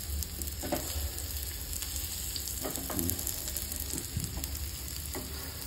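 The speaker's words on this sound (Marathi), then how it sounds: "तेलाला उकळी फुटेपर्यंत किंवा 180 डिग्री सेल्सिअस होईपर्यंत फ्राय करायचं आहे" Fish fingers deep frying in hot oil give a continuous soft sizzle and crackle, with small bubbling pops and light stirring knocks, moderately quiet and without talk.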